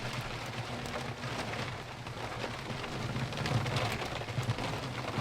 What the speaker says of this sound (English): This rain is fucking crazy.